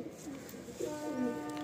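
Madrasi pigeons coo in a loft, low rolling calls repeating close by, with a voice talking over parts of it.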